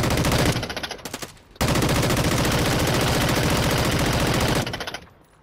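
Rapid automatic gunfire in a multiplayer shooter video game, loud and sustained bursts that break off briefly near the start and then roll on without pause before fading.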